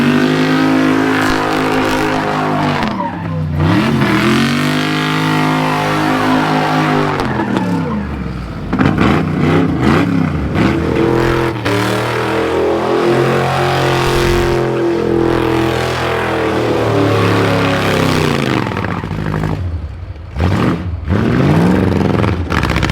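Loud engine of an off-road buggy revving hard through a burnout at a car show, sustained roaring with rising and falling pitch sweeps and brief drops between pulls.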